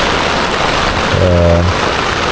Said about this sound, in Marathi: एवढा जोरात पाऊस पडतो ना हे बघा